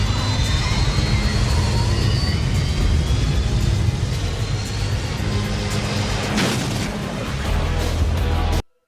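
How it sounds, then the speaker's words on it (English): Fighter jet engines running at high power before takeoff, as in the opening scenes of the movie Top Gun: a loud, steady, broadband roar that holds for the full stretch, with a brief swell near the end before it cuts off abruptly. "the opening scenes where the jets are firing their engines"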